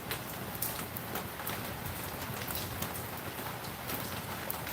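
Rain falls steadily at a low level, a soft continuous hiss with scattered faint drop patters and no voices.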